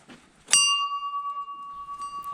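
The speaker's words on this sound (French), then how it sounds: "Peut-être sonner la cloche." A bell at a house gate is struck once, ringing out with a bright, sustained metallic tone that slowly decays, with a faint second tap near the end in a quiet setting.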